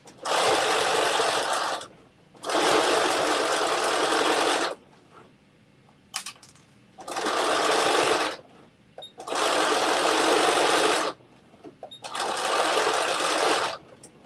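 A sewing machine stitching a LaShuan dress, running in five loud bursts of steady rapid whirring separated by short pauses, close and clear with no talk.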